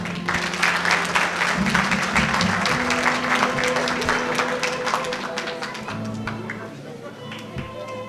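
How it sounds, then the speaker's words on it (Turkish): Audience in the Ehlibeyt mosque hall in Brussels applauds steadily for several seconds at a Fatima birthday gathering, a dense wash of many clapping hands that slowly thins, with voices and a sustained tone running underneath. "bizim de vefasını unutmadığımız Dilşat Hanım'a da buradan bir alkış istiyorum lütfen"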